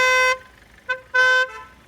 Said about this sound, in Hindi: हॉर्न ये होता है असली हॉर्न इसका